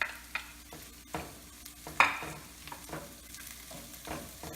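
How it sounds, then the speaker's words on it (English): Spinach frying in a pan for a tuna omelette, a soft steady sizzle with several sharp clinks and scrapes of a utensil stirring against the pan, close by with no voices. "I'm gonna put some spinach"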